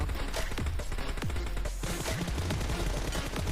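Rapid bursts of gunfire from a mobile battle-royale shooter, loud and dense with overlapping shots and bullet impacts across the whole stretch, no talk.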